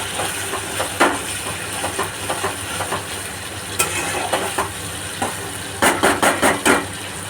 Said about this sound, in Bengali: দেখুন কত সুন্দর কষানো হচ্ছে প্রায় হয়ে এসছে কষানো চারিদিকে তেল ছেড়ে দিয়েছে